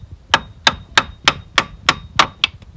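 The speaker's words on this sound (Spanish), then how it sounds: "Para golpear los tornillos, porque no cojáis un martillo de metálico para dar en estos tornillos" Fiber mallet knocking through-bolts on the steering of a Renault Scenic 1.9 dCi, eight sharp evenly spaced thwacks with a slight metallic ring, close and loud with no voices.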